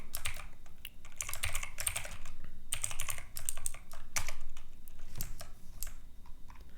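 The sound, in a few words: typing code on a computer keyboard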